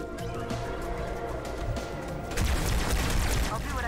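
Bursts of gunfire from a Halo 2 Anniversary co-op battle on High Charity, a steady rattle that grows louder and denser partway through, with booms mixed into the game's background sound and music.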